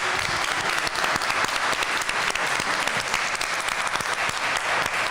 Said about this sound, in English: And a round of applause for them and our panelists today.